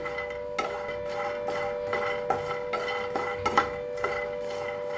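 Peanuts and grated coconut are dry-roasted together in a pan and stirred. Soft, scraping clinks of the spoon against metal repeat at an irregular pace, faint and close, with no talking.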